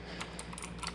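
Clicky blue switches on a Motospeed CK61 mechanical keyboard, heard as a quick run of crisp, close keystrokes in an uneven typing rhythm with no voices.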